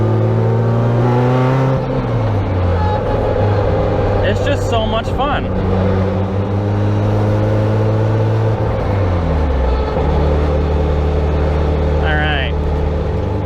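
A Toyota AE86 fitted with upgraded rear springs drives along, its engine droning loud and close with rising and falling revs through gear changes. Someone talks briefly over the engine.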